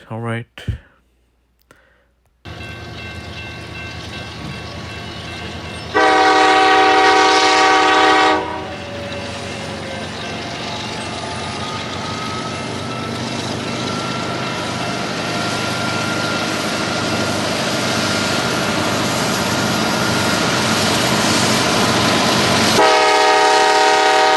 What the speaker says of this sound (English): I can hear railroad crossing bells, so I guess Matt is positioned closer to the railroad crossing